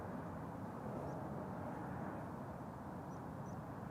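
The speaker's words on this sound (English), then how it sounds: "It's an E2, but not an E2 Embraer 195, but a 190." At Amsterdam Schiphol, a Helvetic Airways Embraer E190-E2 jet arrives from Zurich, its engines producing a soft, constant broadband rush that stays level and distant, with a few tiny high chirps over it.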